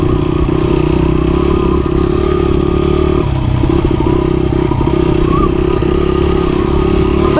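Dirt bike engine running steadily as it rides around a property, a loud continuous drone with shifting revs and a brief dip near the middle, plus some clatter, with no talking.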